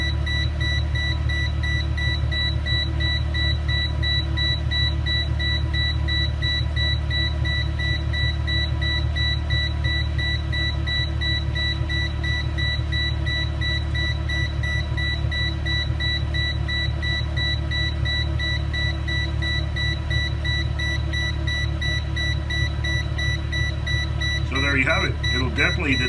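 A TopTes gas leak detector's alarm beeps in rapid, regular bursts while sensing vehicle exhaust, over the loud, steady drone of an idling car engine close by.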